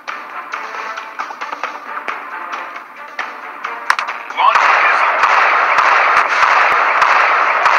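A missile launch in a combat video game: a dense, sustained roaring blast swells in and stays loud after a stretch of rapid clattering gunfire-like bursts, with occasional sharp cracks on top.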